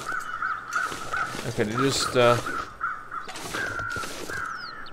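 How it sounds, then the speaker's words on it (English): Harsh caws from crows in the snowy survival video game The Long Dark, a few rasping calls rising over a constant whistling wind, with someone talking over them. "Here, crows."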